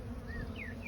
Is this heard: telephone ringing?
no